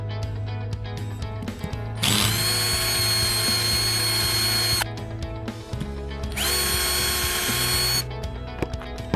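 A Bosch GSR 120-LI cordless drill driving screws whines loudly in two long bursts, with shorter starts, clicks and handling noise in between.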